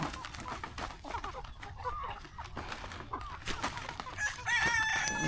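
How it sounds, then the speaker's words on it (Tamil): Crossbreed country chickens on a farm, a rooster crowing loudly alongside clucking hens, with continuous busy fowl noise and a longer crow rising near the end. "இங்கே போகிறது பார்த்திங்கன்னா இடைவெட்டு சேவை, இடைவெட்டு பொட்டை."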